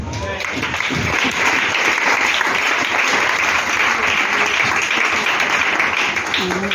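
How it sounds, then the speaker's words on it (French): A church congregation breaks into loud, sustained applause at a sermon, dense clapping from many hands filling the room evenly from start to finish. "Réveillez-vous et acclamez Jésus."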